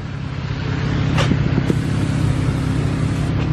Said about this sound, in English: I think that's a Ferrari.